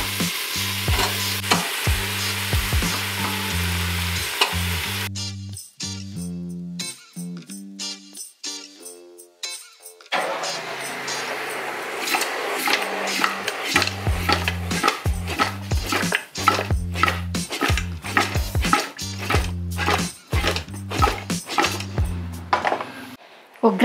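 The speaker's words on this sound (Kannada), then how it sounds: "ಒಗ್ಗರಣೆಯಲ್ಲಿ ಚೆನ್ನಾಗಿ ಫ್ರೈ ಆಗಬೇಕು ಚಿಕನ್ನು." Chicken pieces fry in a hot oily tempering with fenugreek leaves for a village-style country chicken curry, sizzling steadily while a spoon scrapes and clatters against the pan in repeated stirring strokes, close up.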